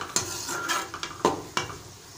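Cashews and raisins fry in ghee for a vermicelli milk payasam, a soft sizzle under a few distinct spoon-stirring scrapes and knocks against the pan, close and fairly quiet, with no voices.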